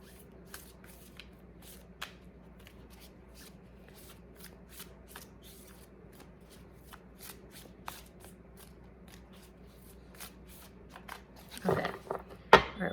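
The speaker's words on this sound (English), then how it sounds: "Just do a little bit of shuffling." Soft, steady tarot card shuffling rustles close by over a low background hum, ending with a few louder handling sounds.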